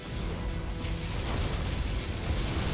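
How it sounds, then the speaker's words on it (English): Particle cannon blasting in Command & Conquer Generals Zero Hour, a loud sustained roaring, crackling energy burst with rumbling low end that holds steady for the whole stretch. "Particle cannon activated."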